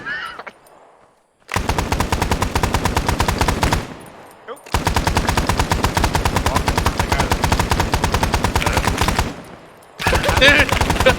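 Loud, sustained machine-gun bursts hammer away at close range in three long strings of rapid shots, with short quiet gaps between them.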